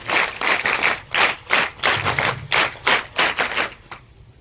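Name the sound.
scouts clapping in unison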